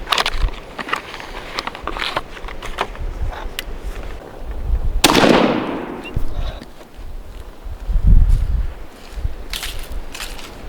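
A single loud, sharp blast from a Remington 870 Youth 20-gauge shotgun firing an Apex TSS Ninja 8.5 load during patterning, rising out of outdoor background noise and trailing off with a rumbling decay.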